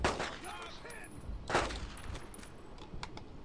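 Gunfire in the video game Brothers in Arms: Road to Hill 30: two sharp, loud shots close by, about a second apart, followed by a fainter crack, with a voice speaking between them.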